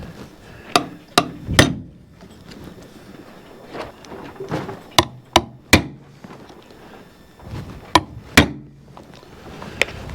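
Hammer blows punching out holes in a new gasket while a Chuck's 151 fuel tank is reassembled, struck in irregular sharp bursts of single and paired hits with quieter handling noise between them.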